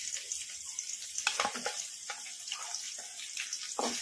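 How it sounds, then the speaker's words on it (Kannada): Onions frying in a pan over a medium flame, a steady hiss of sizzling with scattered crackles and the scrape of stirring, moderately close and unaccompanied by talk. "ಉಳ್ಳಾಗಡ್ಡಿ ಲೈಟ್ ಗೋಲ್ಡನ್ ಬ್ರೌನ್ ಕಲರ್ ಬರೋವರೆಗೂ ಫ್ರೈ ಮಾಡ್ಕೊಂಡ್ಬಿಡೋಣ."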